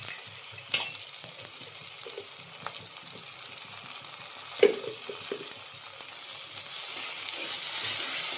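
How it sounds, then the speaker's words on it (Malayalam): Meat roast masala with onions sizzles steadily in a pan, with occasional stirring scrapes and a sharper clank of the utensil midway. "അതുകൂടി ചേർത്ത് നന്നായി ഇളക്കുക."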